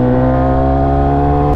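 Steady, loud exhaust drone from a motorcycle engine while riding, a constant low harmonic hum holding at an even pitch throughout, with no speech.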